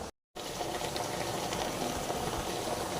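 Ragi kali, a finger millet dough, cooks in a pot with a continuous close bubbling and soft hissing, steady and unbroken after a brief silent gap at the start.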